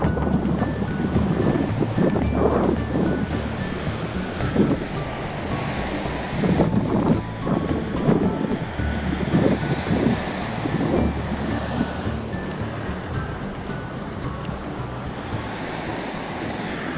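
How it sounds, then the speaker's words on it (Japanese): Small waves break on the Sea of Japan shore on a cold, rainy February morning, a steady wash of surf with repeated swells under constant wind and distant background rumble. "海にはサイズありませんが、入れば乗れそうな小波が割れてます。"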